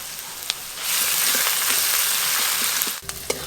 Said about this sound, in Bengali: চিকেন কষা করলে পেঁয়াজ যেরকমভাবে ভাজতে হয় অত বেশি লাল করে ভাজার দরকার নেই, একটু হালকা করে ভেজে নিলেই হবে